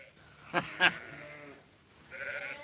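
A few faint, wavering bleats from sheep sound at a distance, with short sharp clicks in between.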